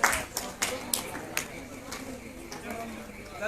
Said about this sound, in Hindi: जोरदार तालियों से इन बच्चों का स्वागत कीजिए और प्रोत्साहित कीजिए इनको